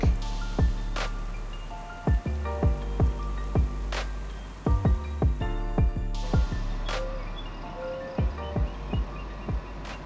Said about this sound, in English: all that rain is hard on the equipment, getting stuck